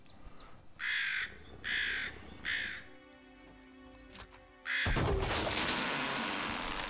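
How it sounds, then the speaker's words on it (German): Crows caw three times in a loud, rhythmic sequence in the World War I strategy video game Iron Harvest, followed by a calmer stretch and then a sudden burst of rushing, noisy game ambience. "jetzt hat er die ganzen Vögel verscheucht"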